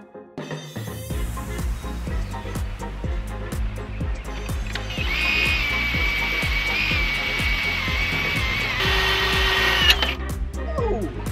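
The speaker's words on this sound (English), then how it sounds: "we've got to drill a hole through here, through our beam" A power drill whirs steadily close by, drilling through a wooden wagon frame beam with a rattling, pulsing tone, rising in pitch partway through before winding down.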